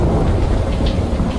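Heavy rain pours steadily throughout a stormy scene in the video game Three Fourths Home, a dense close wash of rainfall with deep thunder rumbling underneath.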